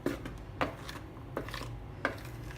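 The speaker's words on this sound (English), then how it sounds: "Just first mix it well, then start beating." Cake batter is beaten in a bowl, with a spoon or whisk knocking against the side in a few irregular taps over a low steady background.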